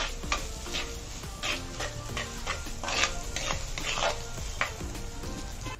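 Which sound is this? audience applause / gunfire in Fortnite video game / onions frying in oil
onions frying in oil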